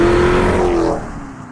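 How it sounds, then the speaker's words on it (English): A 2021 Chrysler 300 SRT Pacer with a 6.4L V8 Hemi revs loudly up close, its engine note holding steady before rising and fading away as the car pulls off. "in this Hemi engine, it really is just a thunderous sound as you're howling"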